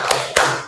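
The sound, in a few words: class rhythmic clapping, tepuk semangat ice-breaker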